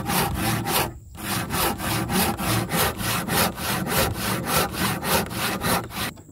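A hand saw cuts steadily through a hard wooden post during house construction, with about twenty loud, rhythmic back-and-forth rasping strokes close by and one brief pause near the start.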